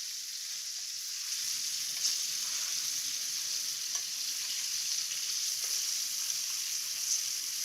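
Meatballs browning in a hot pan give off a steady, close hiss of frying oil with faint crackles and pops throughout.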